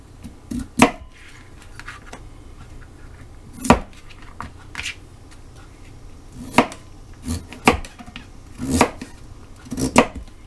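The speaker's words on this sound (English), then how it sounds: "Slice them up." A knife slices through firm beets on a cutting board, with sharp, irregular cuts spaced a second or two apart and quiet pauses in between.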